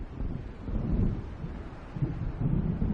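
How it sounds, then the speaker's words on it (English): Thunderstorm ambience in Alan Wake Remastered: low rolling thunder rumbles under wind and faint rain, a dark continuous murmur that swells in waves, moderately loud and without clear sharp cracks. "It seems there's a storm coming."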